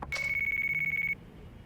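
Electronic phone ringtone in the video game Yakuza 4, a steady pulsing trill with a sustained tone that rings loud and close for about a second, then cuts off leaving faint room noise.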